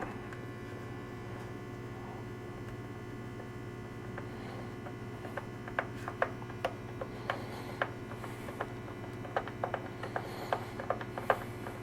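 A screwdriver drives screws into a Coleman heater box, giving a run of small ratcheting clicks and ticks over a steady mains hum. The clicks grow sharper and more frequent toward the end, with no talking.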